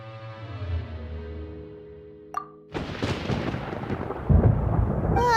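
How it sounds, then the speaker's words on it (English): Thunder attack in the video game Genshin Impact: a sharp crack and zap, then a loud, sustained rumbling crash of thunder with a bursting surge near the end, heard after a stretch of musical tones. "Paimon used thunder!"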